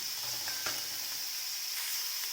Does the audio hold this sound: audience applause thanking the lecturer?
no